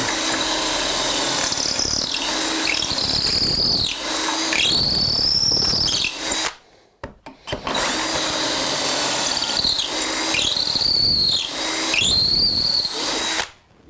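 A power drill bores holes through a clamped wood sign board and hits a knot, its loud whining, squealing drive running in long sustained bursts, broken by a brief pause midway.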